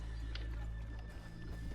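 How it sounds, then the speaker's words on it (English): Horses in the Red Dead Redemption 2 video game, soft clip-clop hoof steps and a brief snort or whinny under a steady hum, fairly faint. "let's leave the horses here off the main drag"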